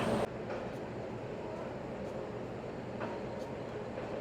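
The Padatik Express rolls past with a steady, fairly close rumbling roar and faint wheel clatter, sustained for several seconds with no voices.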